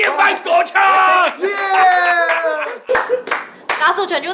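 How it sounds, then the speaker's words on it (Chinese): A gathered crowd welcomes a guest with loud clapping and cheering, while shouting voices ring out over the applause throughout. "让我们掌声欢迎莫叔！"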